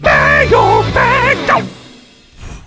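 A mailbag scream on a fantasy football podcast: a loud, drawn-out yelling voice with wavering pitch, broken into several bursts and then fading away.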